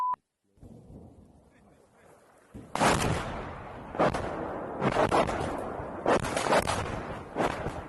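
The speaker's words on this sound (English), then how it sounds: "We can now hear a barrage coming in" Incoming artillery barrage in the Ukraine war, heavy booming impacts arriving in several separate bursts with a rumbling roll after each, fairly distant, following a quieter stretch at the start.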